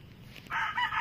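A red junglefowl rooster crows once close by, a short bright call that rises from quiet background rustle and holds for about half a second.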